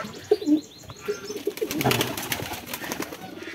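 Pigeons coo in a village loft in winter while a parent pigeon feeds its chicks, with soft repeated coos close by, some chirps and a light flutter, and no talking.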